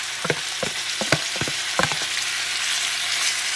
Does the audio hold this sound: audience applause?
no